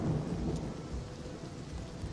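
Steady rain and a low thunderstorm rumble in the Oblivion Remastered video game form a constant, fairly quiet backdrop with no voices.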